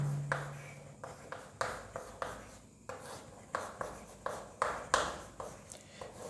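Chalk or marker strokes on a classroom board during a chemistry lecture, a quick irregular series of short scratchy swipes, close and fairly clear, with no speech over them.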